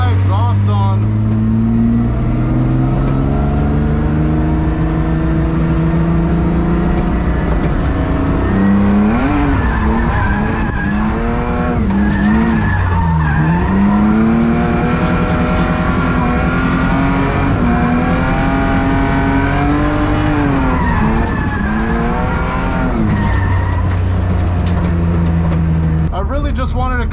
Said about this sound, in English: It's really loud because I only have half of my exhaust on.